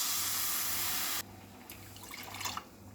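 Water poured into a kadhai of sugar to make syrup for malpua, a steady bright splashing stream that runs for about a second, then stops abruptly and leaves a few soft drips and clinks.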